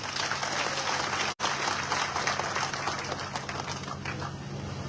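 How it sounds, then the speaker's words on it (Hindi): An audience at a statue unveiling for a fallen soldier in Jakhal breaks into sustained, dense applause. The clapping is steady and fairly loud, with a momentary dropout partway through. "मुझे लगता है जोरदार ताली बजानी चाहिए"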